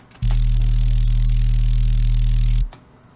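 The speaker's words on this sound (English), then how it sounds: "I like to call it the white noise bass." A thick, sustained low Serum synth white noise bass with a hissing noise layer, one held note lasting a couple of seconds, then cutting off abruptly.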